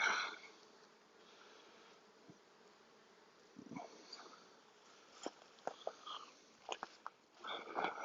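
Honeybees buzz in a low, steady drone around a freshly built comb on a hive frame during a first inspection of the Mountain Queen hive, with scattered clicks and bumps of handling rising toward the end.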